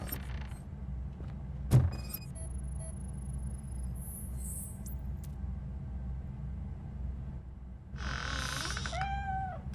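A cat meows near the end in RoboCop Rogue City, a short rising and falling cry over a steady low game rumble, after a single sharp clunk and a few faint electronic tones.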